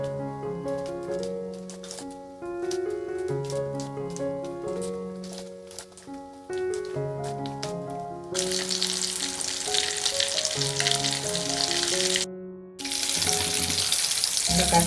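Banana flower cutlets dropped into hot oil, a bright broadband hiss of frying that starts partway through, cuts out briefly and returns, over steady melodic background music.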